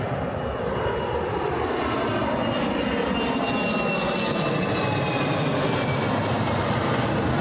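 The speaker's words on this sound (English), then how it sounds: "Here's that C-17." A C-17 military transport aircraft roars in on approach, a loud, continuous broadband engine rumble with a slowly shifting whine and no pauses throughout.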